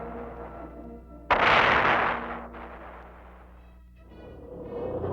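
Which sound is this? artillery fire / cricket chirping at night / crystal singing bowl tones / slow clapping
artillery fire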